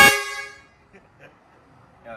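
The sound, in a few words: air horn on a Toyota Hilux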